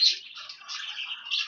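A yellow face line cock budgerigar-type bird chirping softly and continuously, a faint thin twitter close by with small bursts at the start and end, no voices.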